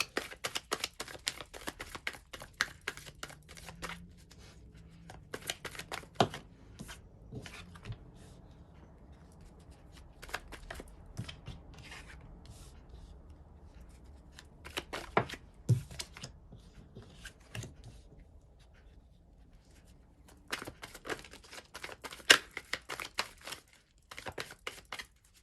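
Tarot cards being shuffled and drawn during a reading: scattered soft riffles, flicks and card slaps in irregular bursts, close and fairly quiet against a hushed room.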